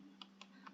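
Four quick, faint keyboard key presses come in an uneven sequence, a Ctrl and V paste shortcut followed by Enter on a computer keyboard, against a soft constant hum.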